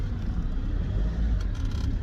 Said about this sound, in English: I've got a truck behind me.